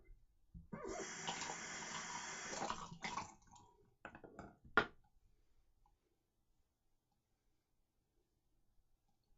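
Water runs from a tap for a few seconds as a face is rinsed after a shave, a close splashing gush that breaks into a few splashes and drips before falling silent.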